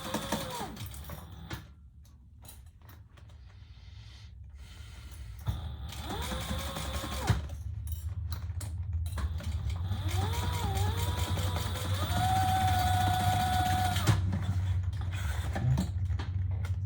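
A sewing machine stitches a bag with a steady mechanical whir and a whining motor that rises and falls through several runs, close by and alone, with no voices.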